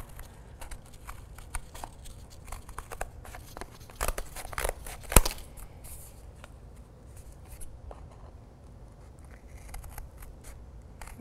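Craft scissors cutting circles out of cardboard, a close series of quiet crisp snips and crunches with irregular spacing, one sharper cut standing out midway.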